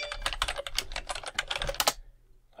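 Quick typing on a computer keyboard to enter an address into a map search, a rapid run of close, crisp key clicks that stops and is followed by one last keystroke.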